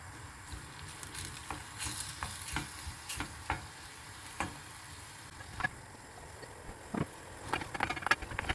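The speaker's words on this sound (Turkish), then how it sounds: "soğanı tavaya alıp üzerine yarım çay bardağı zeytinyağı ekleyip pembeleşene kadar kavuruyoruz" Soft frying sizzle of onions sautéing in olive oil in a pan, with scattered scraping and stirring clicks, quiet and close, with no voices.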